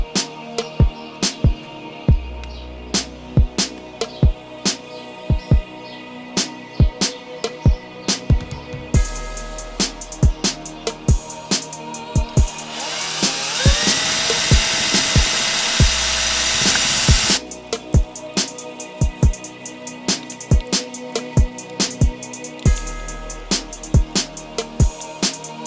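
A homemade mixing tool made from electrical wire, spun by a drill, stirs epoxy resin. Repeated short clicks and taps are heard, broken by a few bursts of whirring, including one longer spin near the middle, all close by.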